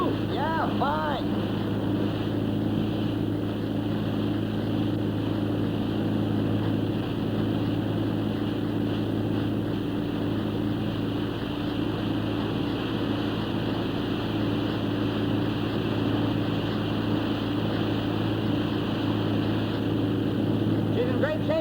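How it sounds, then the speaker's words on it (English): Steady hum of a motorboat engine running throughout, a continuous low drone with water noise, while a couple of voices talk briefly near the start. "She's in great shape, Lorna. Just listen to that engine."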